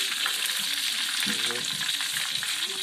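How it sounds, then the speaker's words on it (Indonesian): Red devil fish frying in hot oil, a dense continuous sizzle and crackle close by, with faint voices in the background. "Goreng lagi."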